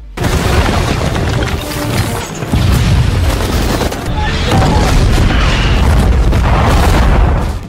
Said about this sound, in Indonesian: datang drone yang menggempur tempat itu dengan bom